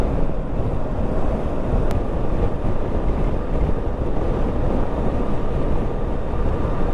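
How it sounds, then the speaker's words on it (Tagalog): Wind rushes hard past a rider on a Kawasaki Versys 650 motorcycle on an early morning road, a loud, constant buffeting roar with the engine buried beneath it and no voices. "Sarap na hangin, malamig."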